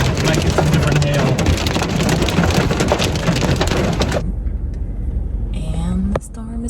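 During a storm in Leavenworth, Washington, hail drums hard and fast on a car, a loud dense pounding that suddenly drops to a much quieter, muffled patter partway through, with a faint thud near the end.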